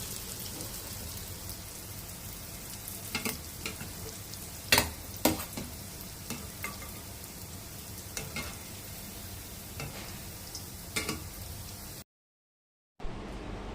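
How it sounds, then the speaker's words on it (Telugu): Gulab jamun dough balls fry in a pan of plenty of oil, giving off a steady bubbling sizzle with scattered pops and stirring taps close by, cut off by a brief silence near the end. "ఇలా వేయించుకోవాలి ఫ్రెండ్స్. ఈ కలర్కి వచ్చేటట్టు వేయించుకోవాలి."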